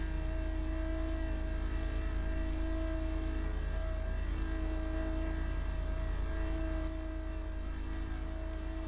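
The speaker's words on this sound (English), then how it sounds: "Plane is pretty loud, man." Small propeller plane in Microsoft Flight Simulator, engine droning loud and steady with a strong low hum and a constant tonal whine, continuous and unbroken throughout, no voices.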